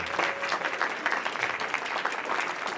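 Audience applauding panelists at a community event, a brief burst of steady, moderately loud clapping from a crowd with a few stray voices mixed in.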